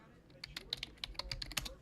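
Quick bursts of keystrokes on a computer keyboard, close and fairly quiet, with irregular clacks tapping out a short word.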